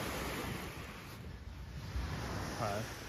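Ocean waves wash onshore at Gisenyi in steady broadband surf, with wind buffeting the microphone and low rumbles throughout.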